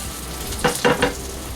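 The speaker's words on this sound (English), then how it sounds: "Now that sizzle is what it's all about" Home-smoked crispy bacon sizzles in a hot pan, a steady hiss swelling into three quick crackling bursts midway before settling back to a low, even fry.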